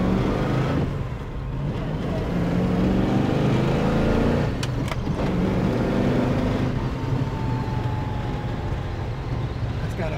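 A 1966 Chevrolet Nova with a 350 hp engine and four-speed transmission is heard driving, a steady, loud, close engine drone with road rumble. It continues without a break for the whole stretch, with brief shifts in tone partway through.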